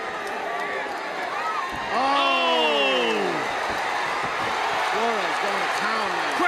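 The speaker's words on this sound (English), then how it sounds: "Crowd is exploding for Tim Flores." Crowd at a Reality Fighting pro MMA bout roaring steadily throughout, swelling louder partway through, with a commentator's voice talking over it.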